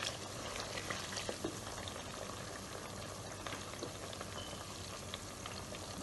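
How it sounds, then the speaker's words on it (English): Tomato paste frying in plenty of hot oil for a tomato beef stew, a soft, steady, close sizzle with scattered pops and crackles throughout. "so you want to fry it properly before adding the tomato puree or sauce or fresh tomato"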